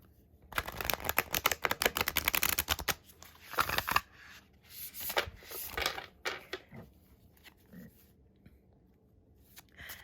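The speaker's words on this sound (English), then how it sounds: "It is very easy to riffle shuffle." Tarot cards are riffle shuffled close up in a rapid burst of crisp flutters, followed by softer bridging and tapping rustles as the deck settles, quiet overall.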